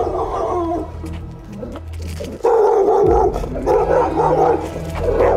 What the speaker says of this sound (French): Le chien en face aboie énormément derrière le portail